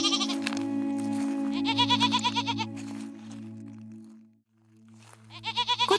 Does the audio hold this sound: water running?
no